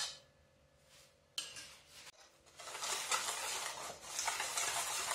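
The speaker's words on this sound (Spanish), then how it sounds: "se revuelve un poco." Ground almonds and sugar stirred together in a bowl: a quiet start, then a sudden rise into steady close scraping and rustling that grows denser and louder toward the end, with no voices.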